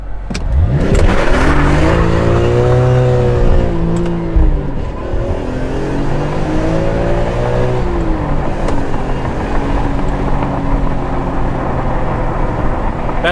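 A BMW E46 M3 with SMG gearbox in sport mode, stability control off, pulls hard from close up, its engine climbing through rising revs with clear shift breaks before settling into a steady drone for the rest of the run.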